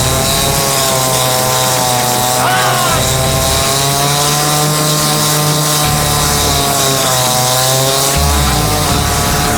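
A homemade Doom-style chainsaw shield tears into a partridge. The engine screams loud and close without a break, its pitch wavering as it revs and bites, with voices faintly underneath.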